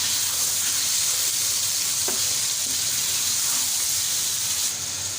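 Spices and turmeric powder frying in a pan while being stirred for chicken biryani, a steady broadband sizzle with a faint scrape of stirring, close and constant throughout with no talk.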